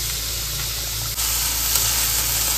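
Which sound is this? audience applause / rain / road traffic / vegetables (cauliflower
vegetables (cauliflower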